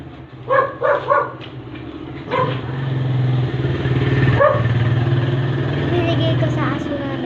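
A dog gives three quick barks near the start, then a steady engine hum takes over and runs to the end, with speech in the background.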